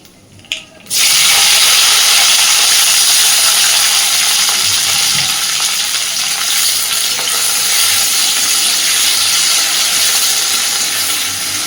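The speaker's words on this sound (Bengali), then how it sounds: "তেলের মধ্যে আমি ফোড়নে দিয়ে দিচ্ছি একটু কালো জিরে আর দিচ্ছি খুব অল্প পরিমাণে পেঁয়াজ কুচি চেরা কাঁচা লঙ্কা আর কুচানো একটা টমেটো" Black cumin, chopped onion, slit green chilli and chopped tomato hit hot oil with a sharp clatter, then a loud, steady sizzle and hiss carries on unbroken up close.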